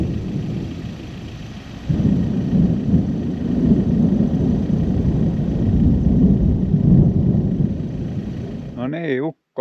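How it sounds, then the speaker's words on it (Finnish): Thunder rumbles in the distance on a warm, breezy day somewhere in northern Finland, a long low roll that swells after a couple of seconds and holds steady before cutting off. "Toi ukkonen tuolla mylvii"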